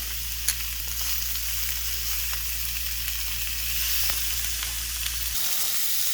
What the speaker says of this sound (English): let your pan heat up, add in your shrimp with the seasoning